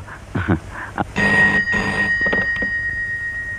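A telephone in a Telugu comedy scene rings with a steady, bright electronic tone that holds for a couple of seconds after some brief low rustling and knocks.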